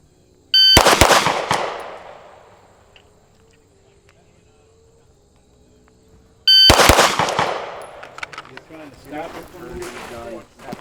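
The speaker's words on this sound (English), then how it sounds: "I'll shoot one more time. Just watch the gun." Two loud handgun shots at an outdoor shooting range, each a sharp crack with a ringing tail, about six seconds apart, the second followed by a brief cluttered echo.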